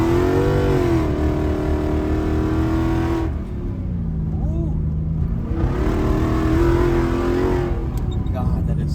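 426 Hemi V8 in an off-road rig revving hard on a graded dirt road, a loud steady engine roar rising and easing back with shifts, heard from inside the vehicle.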